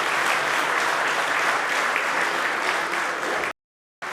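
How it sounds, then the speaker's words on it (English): A gala audience gives a full, steady round of applause for veterans and a surprise guest, dense and even throughout, cut off abruptly near the end with a brief silence. "One more round of applause for our veterans and for our special surprise guest here this evening."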